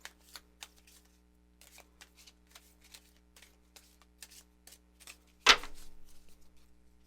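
A deck of Four Agreements oracle cards being handled and a card pulled, heard as a run of light, crisp ticks and riffles spaced out over several seconds, then one louder, longer shuffling swish, close up with no talk.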